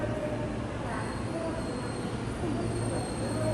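A Japanese passenger train on the line toward Oyama station runs steadily along the rails, heard from inside a carriage as a constant loud rumble with faint wheel squeals threaded through.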